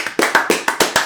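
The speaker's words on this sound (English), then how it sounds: "let's get a round of applause" Quick, sharp hand claps ring out in a steady rhythm, about six in just over a second, close and fairly loud, from a small group giving a round of applause with no talking.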